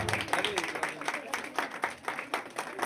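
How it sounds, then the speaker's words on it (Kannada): Audience applause at a birthday celebration, a dense run of many hands clapping at steady moderate volume with a murmur of voices mixed in throughout. "ಬರ್ಲಿ ಚಪ್ಪಾಳೆ."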